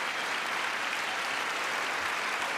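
Applause fills a legislative chamber during a State of the Union address, a steady, somewhat distant wash of many hands clapping at an even level with no audible speech.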